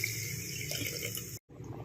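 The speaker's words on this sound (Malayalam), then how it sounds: "മിക്സി കഴുകിയ വെള്ളവും കൂടി ഒഴിക്കുന്നുണ്ട്" Steady rushing of water from rinsing a mixer jar being poured into a pan, continuous and close for over a second before cutting off abruptly, then a quieter liquid trickle.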